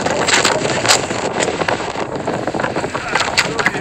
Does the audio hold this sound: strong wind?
yes